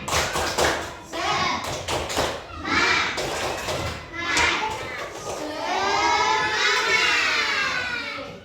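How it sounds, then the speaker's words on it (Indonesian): A classroom of children performs a rhythmic spirit-clap chant, sharp claps in quick bursts mixed with chanted voices, ending in a sustained group shout. "kita tepuk semangat dulu"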